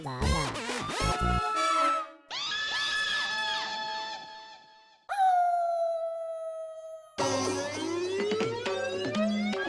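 A dog howls in a shop on a Hindi TV sitcom, several loud, drawn-out wavering howls with short silent breaks between them and no talking.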